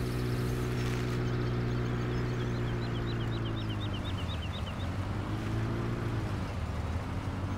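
Car engine in Farming Simulator 17, a steady droning hum with harmonic tones that dip and rise as the vehicle changes speed, continuous and fairly loud with no talking.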